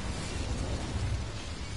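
A fire spell cast in Hogwarts Legacy on PS4 erupts as a dense, steady whoosh of burning with a heavy low rumble, lasting under two seconds without a sharp break.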